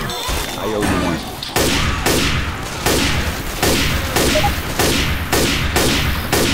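Loud gunshots in the Left 4 Dead 2 video game, about nine heavy blasts fired at a steady rhythm of roughly one every 0.6 seconds, each with a short decaying tail, after a brief jumble of other game noise.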